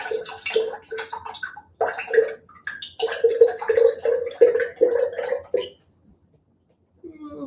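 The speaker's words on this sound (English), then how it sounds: "Now we open up our coconut milk and we pour it in." Coconut milk poured into a Starbucks Pink Drink, a close gurgling, glugging pour in uneven bursts for several seconds, then stopping, with a brief faint sound after.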